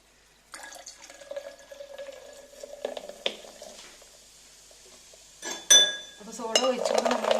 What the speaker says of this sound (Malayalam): അപ്പൊ സോഡ ഒഴിക്കാം.